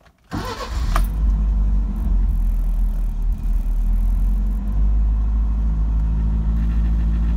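A Mercedes 190SL engine catches after a brief crank and settles into a loud, steady, rumbling idle close by, running alone without any voices.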